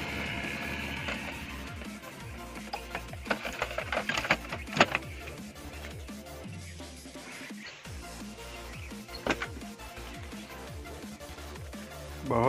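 A Brother DCP-T820DW multifunction inkjet printer with auto duplex and ADF prints a page, giving a steady mechanical whir with repeated clicks and feed clunks throughout, and a brief pause partway through.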